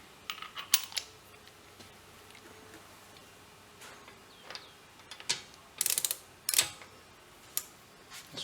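A lug wrench loosens the locking lug nut on a Jaguar XK8 wheel, giving scattered ratcheting clicks and metallic ticks close by, with a few sharper bursts toward the end and quiet gaps between.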